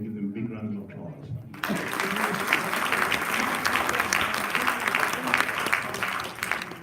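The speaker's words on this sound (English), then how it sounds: "we can give them a big round of applause" A conference audience on the third day of the International Conference on Palestine breaks into applause. It starts abruptly after a speaker's voice and continues as dense, sustained clapping from a large room for several seconds.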